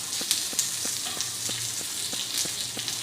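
Kebabs for a dhaba burger fry in a little oil in a pan over moderate flame, a steady close sizzle with faint rhythmic taps throughout.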